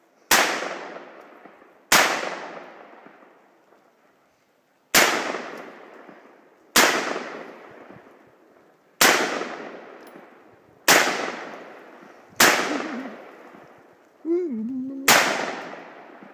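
Gunshots strike dirt outdoors: eight sharp, loud cracks spaced a second or two apart, each followed by a decaying rumble, with a faint voice murmuring near the end.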